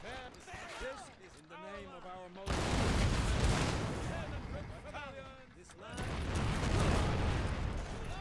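Cannon artillery fires in a Civil War battle game at Kennesaw Mountain, with two long booming volleys that rumble and fade, separated by someone speaking.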